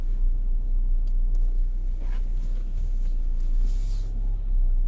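A car reverses and turns round in a small car park in Paphos, Cyprus, its engine a low, steady rumble heard from inside with faint outside noise and no speech.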